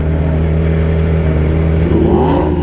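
An Audi R8 drives by at a cars and coffee meet, its engine a loud, close, steady drone that rises in pitch as it revs near the end.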